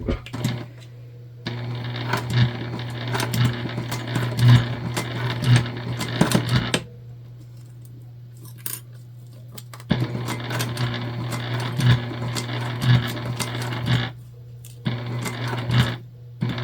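A sewing machine runs in bursts of fast, rhythmic stitching along a bag zipper edge, pausing briefly between runs, close and fairly quiet.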